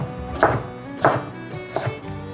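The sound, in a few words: knife chopping cucumber into thick strips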